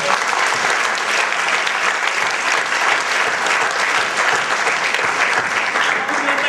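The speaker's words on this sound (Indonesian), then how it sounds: "Tepuk tangan dulu buat semua" A seminar audience at a financial recognition-day event claps together in a thick, continuous round of applause, loud and sustained throughout with no letup.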